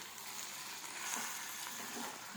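Okra fries in a pan with a steady, soft, hissing sizzle that continues without a break, along with a few faint scrapes from stirring. No voices are heard.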